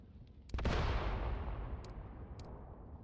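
In the Mius Front war game, a mortar fires with a sudden heavy boom that rolls into a long, fading rumble, followed by a few faint distant cracks, with no voices.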